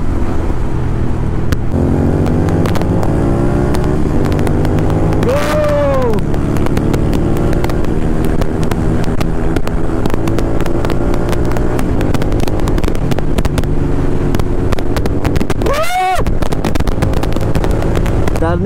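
A Royal Enfield GT 650 motorcycle rides along an open road, its engine droning steadily and loudly throughout with wind rush, shifting pitch as it accelerates, with a couple of sweeping passes from other vehicles.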